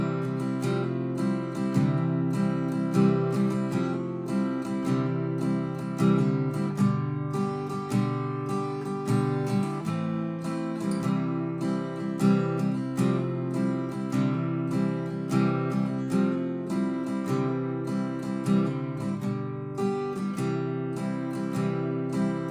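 The intro of a song rings out on guitar, a steady strummed chord progression with a busy, even rhythm that carries on unbroken and close for the whole stretch, no voices.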